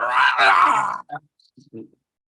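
A voice imitates a scaled draconic bugbear's half growl, half scream, a loud rasping guttural roar lasting about a second, followed by a few faint vocal sounds.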